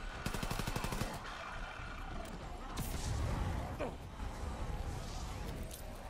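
Rapid gunfire from WW2-era weapons shooting zombies in a video game, dense bursts and repeated shots running throughout, with a voice talking over the shooting.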